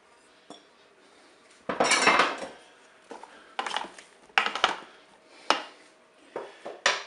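Chunks of pepper, tomato, courgette and aubergine tumble into a Cookeo multicooker pot in several separate clattering drops, with utensil clinks and knocks against the metal bowl, close and fairly loud with quiet gaps between.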